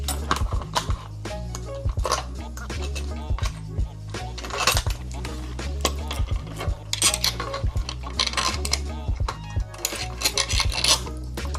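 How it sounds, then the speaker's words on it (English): A metal bolt and washers are fitted onto the headlight of a Heybike ALPHA e-bike, producing close, steady metallic clinking, scraping and rubbing over a low background hum. "Insert the bolt and washer."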